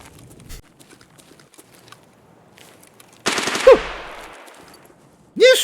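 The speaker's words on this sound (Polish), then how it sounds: "Strzelają na lewo i prawo" Gunfire in the Escape from Tarkov shooter game: quiet rustling and faint clicks, then a loud close burst of automatic fire that rings out and decays, followed by another sharp burst at the end.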